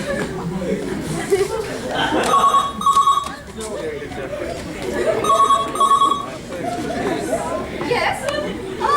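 A telephone rings in two separate double-burst rings during a Neil Simon stage farce, heard beneath lively chatter and chuckling from actors and audience.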